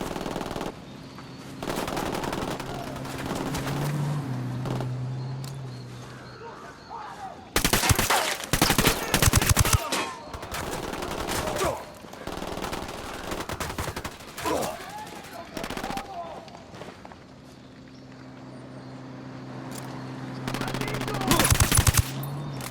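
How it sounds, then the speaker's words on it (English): Ghost Recon Wildlands combat: repeated loud bursts of automatic machine gun fire and gunshots in rapid rattling volleys, interspersed with game ambience and brief tonal effects, with some voices mixed in. "I'm opening fire."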